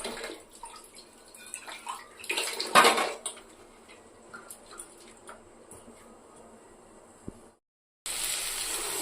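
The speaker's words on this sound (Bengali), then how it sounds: "তাই জন্য এগুলো শুধু প্লেন জলের দিয়ে ধুয়ে নিচ্ছি" Rinsing clean dishes and utensils with plain water while cooking pulao in a home kitchen, with intermittent splashing and running water, clinks of metal, and a louder gush toward the end.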